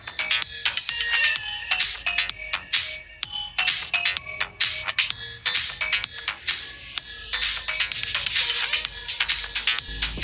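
A song plays through OnePlus Bullets Wireless Z Bass Edition wireless earphones as steady, busy music with clear melodic tones and pulsing beats, heard continuously with no talking.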